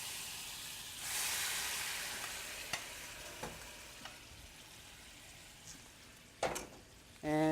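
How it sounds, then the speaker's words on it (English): Homemade tomato sauce hits a warm pan with a sudden bright sizzle that fades into a steady hiss, broken by a few soft clicks and stirring scrapes, close by with no voices. "In goes the tomato sauce that we made on Sunday."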